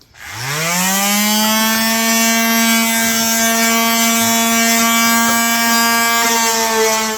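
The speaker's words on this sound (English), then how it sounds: "We're doing it with the little vibrating deal." A small vibrating power sander works the corners of a walnut table, running as one loud, steady whine with a strong constant pitch that holds from start to finish.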